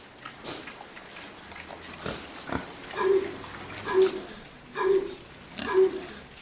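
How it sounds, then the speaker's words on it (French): A pig on an organic farm coughs four times at a steady pace, each a short, husky grunting bark, close and clear over faint barn noise, with a few softer knocks and rustles before the coughing begins. "On entend tousser un cochon."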